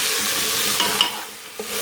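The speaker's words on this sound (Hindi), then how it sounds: "अब हम इसको अच्छे से भून लेंगे।" Spices, masala and dried fenugreek leaves being fried for chana dal, a loud continuous sizzle with the scrape of a stirring spoon against the pan.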